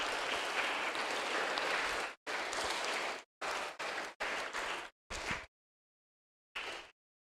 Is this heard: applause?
yes